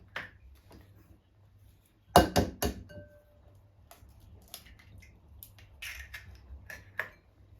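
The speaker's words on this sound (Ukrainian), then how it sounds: "Розбиваємо два яйця." Two eggs crack with a few sharp cracks and taps of eggshell against a bowl rim, followed by softer wet drops and clinks in a quiet kitchen.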